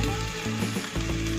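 Water is added to a pan of sizzling chicken gravy, a loud hissing fry that dips briefly as the liquid hits, then carries on crackling.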